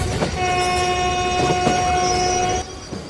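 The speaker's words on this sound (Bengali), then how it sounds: "হঠাৎ দূর থেকে ট্রেনের হুইসেলের আওয়াজ এলো। একটা পুরোনো ধাঁচের ট্রেন ধীরে ধীরে স্টেশনে এসে থামল।" An old-style train sounds a long, steady whistle as it rolls into a station, the tone held for about two seconds over a rumbling, clattering undercarriage, then cutting off while the wheel noise carries on.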